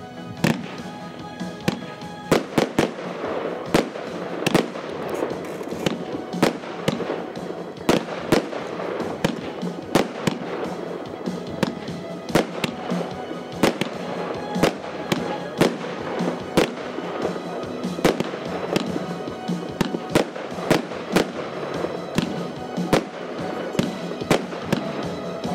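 A Brocade Crown King firework battery of 25 shots in 30 mm calibre fires outdoors, sharp cracking reports in a fairly regular sequence over a continuous crackle and hiss, heard from a moderate distance.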